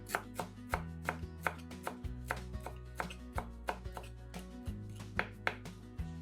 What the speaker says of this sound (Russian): Большой пучок укропа измельчаем ножом